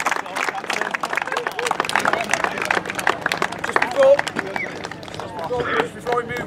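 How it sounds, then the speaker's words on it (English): Dense crowd applause at a charity football match, many hands clapping at once, steady and loud for several seconds, with some cheering mixed in. "So I want to just give these lads a round of applause."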